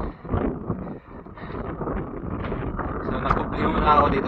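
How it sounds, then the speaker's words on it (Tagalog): Strong wind gusts and rain buffet the microphone at Sky City Tower, a steady loud rushing roar filling the whole clip with a faint voice underneath. "So malakas ang hangin dito tsaka ulan."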